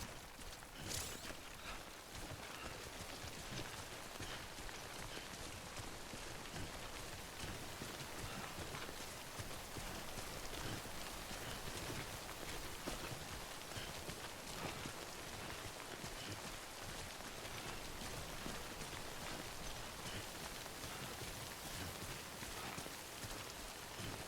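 Steady, dense rainfall patters on surfaces in the video game Death Stranding, an even hiss of drops lasting over twenty seconds, faint and unbroken with no voices.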